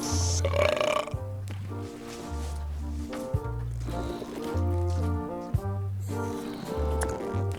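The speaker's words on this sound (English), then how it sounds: "They're excellent for burping contests." Burping contest in the video game Return to Monkey Island, with a run of about seven deep, drawn-out belches in a steady rhythm, separated by short pauses and backed by light game music.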